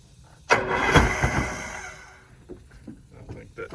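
A boat engine on a SeaArk 2072 cranks and catches after choking, a sudden loud start that settles and dies back, followed by faint sputters, with a voice speaking nearby.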